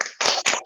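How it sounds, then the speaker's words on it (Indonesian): A class gives a short burst of hand clapping, loud and close, lasting under a second. "Tepuk tangan untuk kelompok 6"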